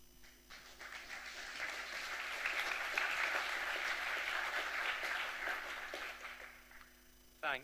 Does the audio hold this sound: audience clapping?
yes